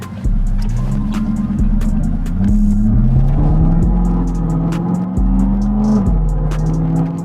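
Modified supercharged Jaguar F-Type V8 with 550 bhp and an aftermarket exhaust, revving loud and close in repeated bursts whose deep engine note climbs and falls, with short drops between pulls and no voices.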